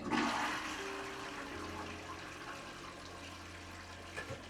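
A newly renovated toilet flushes with a strong close gush that settles into steady refilling water and a faint hum, no speech.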